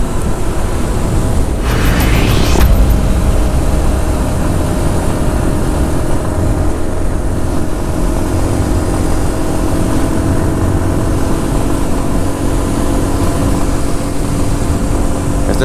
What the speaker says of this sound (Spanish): Yo no sé si la moto está teniendo problemas